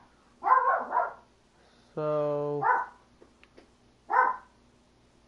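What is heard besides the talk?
dog barking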